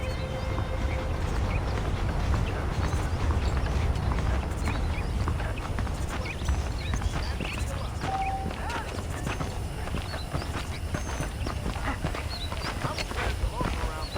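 Saddled horses clip-clop steadily at close range in the Red Dead Redemption Western video game, with a whinny and a constant bed of background ambience underneath.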